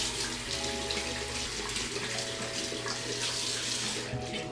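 Tap water runs steadily into a bathroom sink during a morning skincare and grooming routine, a continuous close splashing stream with no talk.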